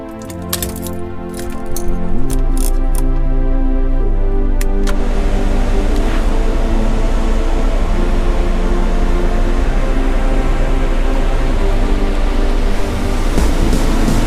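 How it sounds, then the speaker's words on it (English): VW campervan engine starting and running, a few brief clicks and a short crank, then the engine catches into a loud steady idle that runs on evenly close by. "So let's get the van started."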